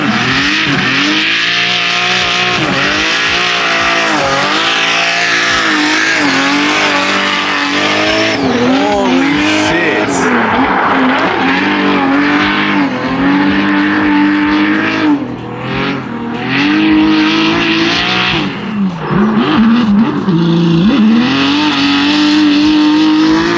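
A 1200hp BMW E36 drift car screams at high revs, its engine note rising and falling while the tires squeal through slides, loud and continuous throughout without any speech.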